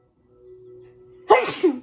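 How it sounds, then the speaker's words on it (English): A single loud, close sneeze bursts out after a short hum, followed by a quick exhale. "I feel like I have to sneeze."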